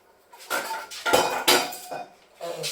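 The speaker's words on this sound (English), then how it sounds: "Right, tidy your pans up. Let's put some pans." Metal pans clatter and clink as they are set down and stacked, several sharp knocks in quick succession with brief pauses between.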